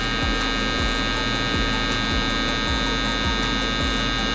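An electric hair trimmer, used on a burst fade haircut, buzzes continuously up close, with a steady hum and a regular pulsing rhythm and no speech.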